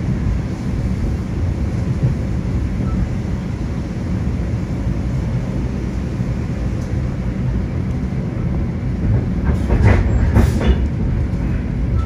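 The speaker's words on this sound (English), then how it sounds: "This is the train to Penn Station." A Long Island Rail Road train riding toward Penn Station: a loud, steady interior rumble of wheels on track with a constant roar and a brief rattling surge near the end, no voices.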